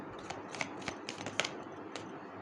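Tarot or oracle cards are shuffled by hand in a quiet room, giving soft papery riffles and taps in short irregular bursts.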